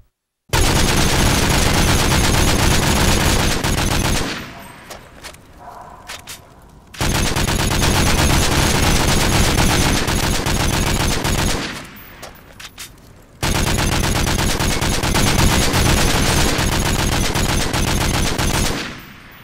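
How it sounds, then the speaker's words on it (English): MK14 rifles fire side by side in Modern Warfare 3, one with rapid fire and one without. The gunfire is loud and continuous, with three long bursts split by short lulls of quieter shooting. "I got one more clip with these guns being shot side by side so you can see how much faster the one with rapid fire finishes"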